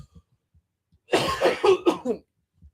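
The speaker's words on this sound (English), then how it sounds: "I can't get past this cough" A burst of several harsh coughs in quick succession, close by, after near silence.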